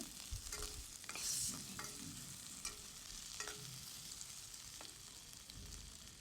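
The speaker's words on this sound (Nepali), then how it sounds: "आलु पनि एकछिन हामीले फ्राई गर्छौँ। सो यसलाई एकछिन चलाइदिनु।" Potatoes frying in a pan while being stirred, with scraping utensil strokes over a steady low sizzle, close and fairly quiet, no talking.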